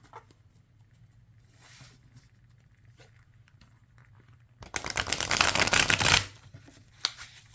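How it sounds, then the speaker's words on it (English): Riffle shuffle of a pasta-themed tarot deck: a dense, loud burst of flicking card edges lasting about a second and a half, set between quiet handling rustles and a sharp tap afterward. "So it does a riffle shuffle just fine."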